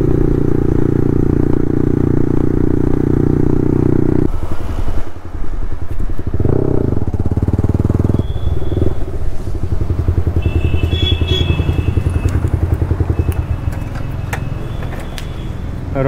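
Motorcycle cruising easily in sixth gear on a road in Jammu, a loud, close engine drone with wind buffeting, briefly dropping and picking up again, plus scattered clatter and thumps.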